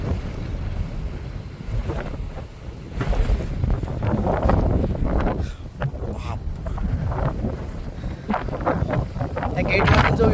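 Sea waves along the Konkan coast, a broad rushing wash of surf mixed with heavy wind buffeting the microphone, continuous and fairly loud, with someone speaking over it at times.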